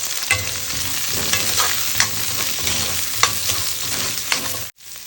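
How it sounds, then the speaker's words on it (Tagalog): Garlic and onion sautéing for chopsuey produce a loud, continuous close sizzle, broken by repeated scraping strokes of a spatula stirring the pan, before a brief drop near the end. "gisa lang tayo ng bawang. Pag medyo brown yung bawang, lagay natin tong sibuyas"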